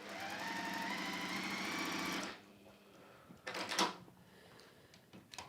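A sewing machine stitches a seam on a Terrace Star quilt with a fast, close mechanical whirr for about two seconds, then stops, followed by a few faint handling clicks and knocks.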